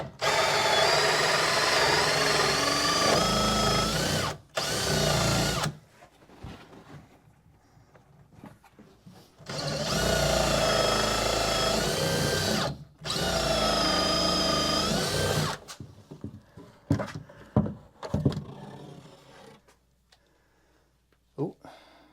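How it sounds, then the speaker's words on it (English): A power drill bores through wood in a finished basement, loud whining runs in several long bursts separated by quieter pauses with handling noise. "I drilled right beside it, and I basically just made my whole oblong bigger."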